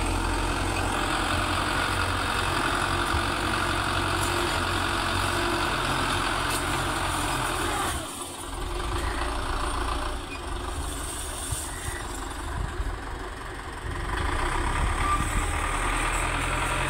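A tractor engine runs steadily at a fish farm, a loud low rumbling drone that dips briefly around the middle and then resumes at an even idle, with no voices.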